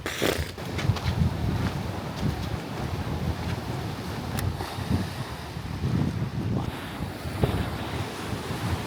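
Ocean waves surge and wash onto a beach under constant rough wind buffeting the microphone, a steady loud roar with swells rising and falling, no voices.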